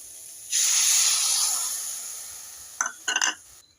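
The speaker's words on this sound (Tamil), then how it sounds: "ஒரு கப் தண்ணி ஊற்றி வேக வச்சுக்கலாம்" A sharp burst of hiss as a cup of water hits a hot pan of sautéed vegetables and cracked wheat, sizzling loudly then slowly fading, followed by a few brief clattering sounds near the end.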